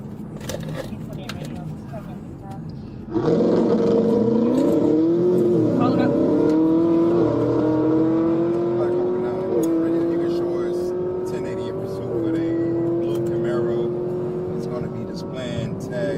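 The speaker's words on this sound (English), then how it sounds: "troopers were involved in a pursuit of a ZL1 Camaro after spotting it driving recklessly and above the speed limit" A ZL1 Camaro being chased by police after reckless speeding: a loud, near engine roar swells in abruptly and holds a rising, straining drone under speech and road noise.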